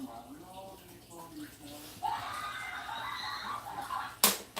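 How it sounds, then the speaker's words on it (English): A cup of water poured into a cooking pan of sauced shrimp with Chinese sausage: a steady, close splashing pour of about two seconds follows a voice speaking and ends with a sharp clink. "Then I'm going to add another 1 cup of water."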